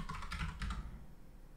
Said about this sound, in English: type EZRADIUS